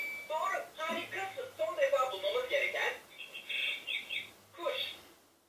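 Short electronic chirps and tweets from a toy bird on a Clementoni DOC programmable robot game come in bursts, with children and an adult talking over and between them.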